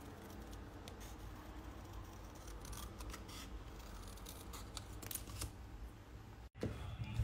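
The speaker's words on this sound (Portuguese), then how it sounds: "Enquanto seca, eu já vou cortar aqui a Nossa Senhora." Scissors snip around a paper cutout of Nossa Senhora Aparecida, a steady run of close, crisp cuts and rustling paper, with a brief break near the end before the cutting resumes.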